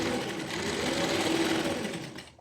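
A sewing machine stitches closed the fabric straps of a jumpsuit, a steady rapid mechanical whir running close and continuously before cutting off at the end.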